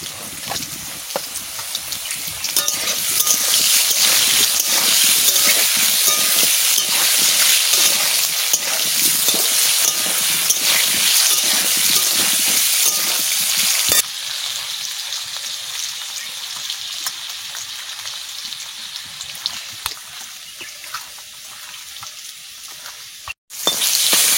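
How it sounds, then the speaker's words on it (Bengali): Potatoes fry in a pan, giving a loud, continuous crackling sizzle heard up close, which thins and quiets somewhat partway through as stirring goes on. "আলু ভাজা হয়ে গেছে, তুলে নিচ্ছি।"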